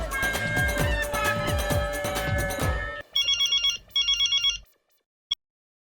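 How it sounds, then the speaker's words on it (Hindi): Music plays briefly, then a telephone rings with two electronic trilling bursts, followed by silence and a single faint click. "मेहता जी को फोन कीजिए।"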